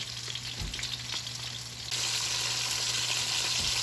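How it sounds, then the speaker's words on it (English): A beef roast sears in a hot pan with a steady, close sizzle that grows louder and denser partway through. "So this is how I sear the sides of the roast."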